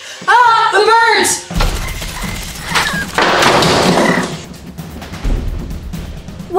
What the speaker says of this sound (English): we heard glass breaking